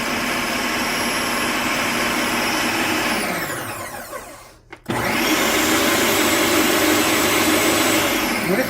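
A Ninja NF701 Professional XL food processor runs in puree mode with a loud, steady high-pitched motor whine. It winds down and briefly goes silent around the middle, then restarts at full speed and runs on alone.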